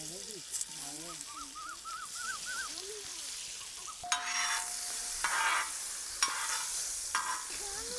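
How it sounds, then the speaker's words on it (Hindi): Paneer frying in ghee in a pan gives a steady sizzle and hiss with occasional stirring knocks, while high voices chatter in the background. "चलिए पनीर हल्का हल्का तल लेते हैं।"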